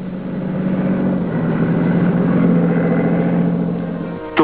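A diesel internal combustion engine runs with a steady low rumble that swells slightly and holds, close and loud, then ends in a brief clunk.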